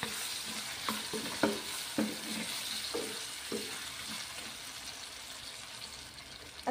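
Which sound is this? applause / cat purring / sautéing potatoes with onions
sautéing potatoes with onions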